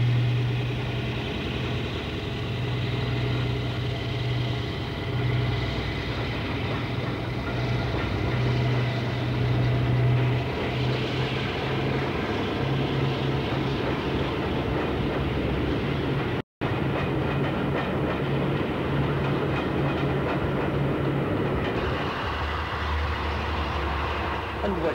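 A British Rail Western class diesel locomotive rumbles steadily and loudly at close range, with a low engine drone and rolling rail noise that briefly cuts out and then continues.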